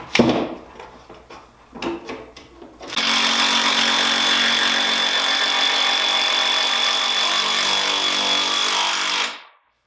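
Power driver sinking 2 3/4 inch construction screws into a wooden workbench top: a few short taps and bumps, then one loud, steady whirring drive lasting several seconds before stopping abruptly.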